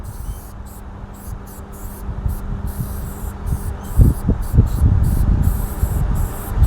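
Spray paint hisses steadily from a can while graffiti letters are filled in, close and continuous, with soft rubbing and thumps joining partway through and no talking.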